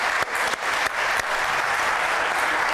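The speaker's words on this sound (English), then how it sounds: "would you give them a round of applause as they take their seats?" A church congregation applauds graduates during a Sunday worship service, a full, steady round of clapping from the crowd with a few sharp individual claps standing out at the start.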